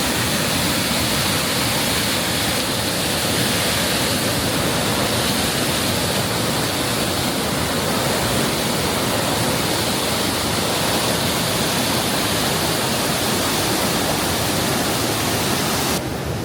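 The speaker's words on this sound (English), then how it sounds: "the water comes from the canal and overflows, goes down this little waterfall, and then goes underneath the canal and feeds into the river" A small waterfall fed by canal water overflowing before it runs under the canal into a river pours in a loud, constant broadband rush, close up and unbroken throughout with no voices.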